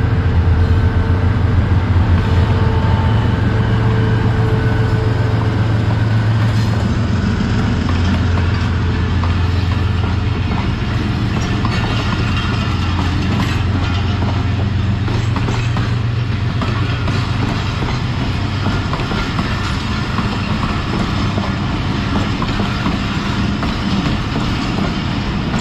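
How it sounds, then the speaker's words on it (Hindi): A train hauled by GEU20 diesel locomotive number 4570 passing on a Pakistani railway line, a steady loud rumble of wheels and engine drone with faint rhythmic clatter throughout. "और सामने से GEU20 के साथ एक अदर ट्रेन आ रही है, GEU20 4570 है"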